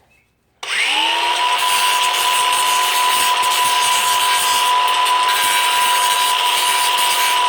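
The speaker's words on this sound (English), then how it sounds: "I'm going to take my angle grinder, noise alert." Angle grinder smoothing burrs from a hole cut in a 5 gallon hydroponic bucket, snapping on abruptly from quiet and spinning up to a loud, steady high-pitched whine with a harsh hiss that holds close and unbroken.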